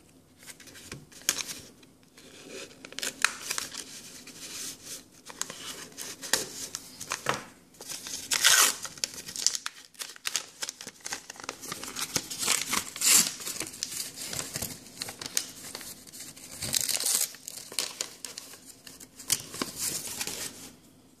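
Foil wrapper of a Pokemon card pack from an eBay grab bag tin being torn and crinkled open up close, with repeated crackling rustles and sharper ripping bursts throughout.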